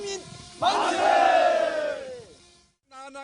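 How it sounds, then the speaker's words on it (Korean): A crowd at a March 1st independence movement centennial reenactment in Cheonan's Aunae marketplace roars a long unison shout of 'Manse', loud and close, swelling then fading, followed by a brief pause and a short musical tone. "다시 한번 대한독립 만세의 외침이 울려 퍼집니다"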